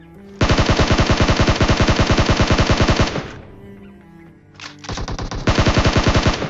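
Rapid automatic gunfire in a battle royale video game, two long, loud bursts of evenly spaced shots separated by a brief lull with fainter reports.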